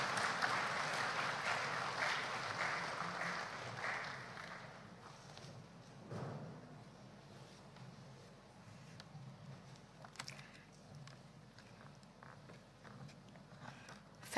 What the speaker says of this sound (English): May I invite a round of applause for her as she comes.